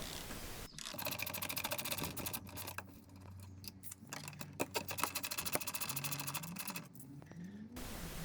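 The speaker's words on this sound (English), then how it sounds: "I'm gonna start by removing these two upper nuts using my small ratchet and the" A small ratchet with a 10mm socket loosens nuts on an Alfa Romeo 147 grille, giving rapid, quiet clicking bursts with short pauses, close up against a low background hum.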